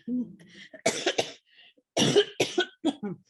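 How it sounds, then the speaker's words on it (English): Several harsh coughs come in two clusters, close and loud, with brief quiet gaps and a bit of throat noise before them. "And the cough has not gone away."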